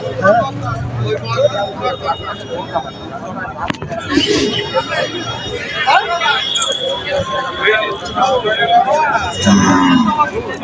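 Cattle mooing at the Alamdanga livestock market while bulls are sold for Qurbani, loud nearby lows over a steady crowd babble, with people talking throughout.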